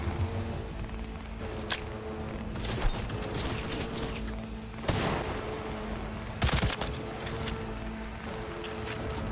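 Close-range gunfire in the video game Cyberpunk 2077, several loud sharp shots and bursts scattered over a dense, noisy battle background.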